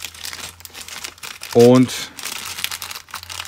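Plastic bag of parts from a Meng 9A52-2 Smerch model kit crinkles in one short, loud burst while someone talks in German before and after.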